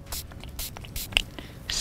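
Quick close hisses from a spray bottle as amino additive is misted onto a pike deadbait, a handful of brief spritzes with soft handling noises between them.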